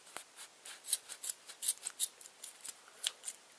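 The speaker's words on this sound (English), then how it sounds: "Just keep cutting them." Scissors snipping through yarn while trimming a handmade pom-pom, a close, quick series of crisp cuts in an uneven rhythm with no talking.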